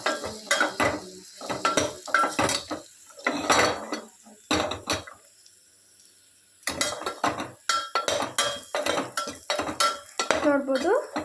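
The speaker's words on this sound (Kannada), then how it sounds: "ಹಾಕ್ಕೊಂಡು ಚೆನ್ನಾಗಿ ಫ್ರೈ ಮಾಡಬೇಕು" Chilli powder and turmeric frying in a pan for veg pulao, heard as bursts of spoon-on-metal clattering and scraping with a faint sizzle, separated by a short quiet stretch.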